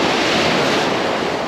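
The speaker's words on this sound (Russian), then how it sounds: "Вот хорошая идет впереди волна." Stormy Black Sea waves crash onto a pebble beach near Alupka, giving a loud, continuous roar of surf and spray close to the microphone, with wind noise and no talking.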